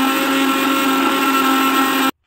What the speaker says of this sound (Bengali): মিক্সারে বেটেছি, শিলনোড়ায় বাটলে ভালো হয়, কিন্তু মিক্সারে একটু তাড়াতাড়ি হয়ে যায়